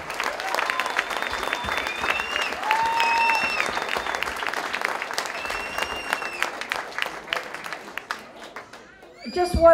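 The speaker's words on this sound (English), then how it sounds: "Let's give a big round of applause to our owner, Sue Black." Audience applause at a dinner celebrating the 30th anniversary of the Milwaukee Wave, steady clapping from a large room with cheering whistles and voices over it, then a louder surge near the end.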